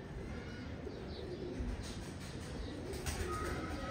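A female Teddy pigeon gives soft, low coos at close range against a quiet, faintly noisy room, with faint chirps scattered through the few seconds.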